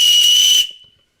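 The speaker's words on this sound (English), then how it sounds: "you've got a little lanyard on there with a survival whistle" A survival whistle on the lanyard of a Gerber Bear Grylls fixed-blade knife gives one short, shrill, piercing blast that holds steady for about half a second, then cuts off with a brief fading tail.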